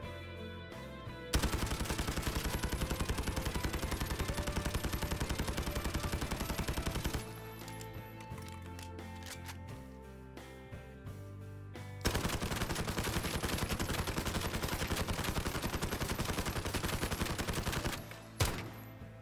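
A Bizon submachine gun fires in Modern Warfare in long, rapid full-auto bursts, loud and continuous, separated by a quieter stretch of scattered shots and a few brief single reports near the end.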